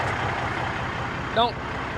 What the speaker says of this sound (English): Oh, big cam Cummins sounds good.